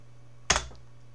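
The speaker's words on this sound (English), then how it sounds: "I'm actually going to type it in manually" A single sharp keystroke clicks on a computer keyboard while an address is entered, one brief, close tap against a quiet background hum.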